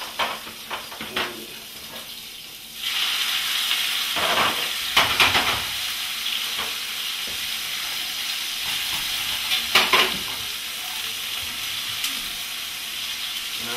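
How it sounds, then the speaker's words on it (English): Rosemary dropped into smoking-hot grease bursts into a loud, steady sizzle after a quiet start, with occasional sharper spits and crackles throughout. "I can see the grease is smoking. So what I'm going to do, I'm going to put that rosemary first."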